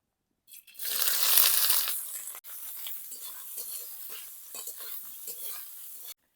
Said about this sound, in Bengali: 1 ফাং নারকেল ছোট ছোট করে কেটে কুচো কুচো করে নিয়েছি, কড়াইতে ভেজে নেব লাল লাল করে।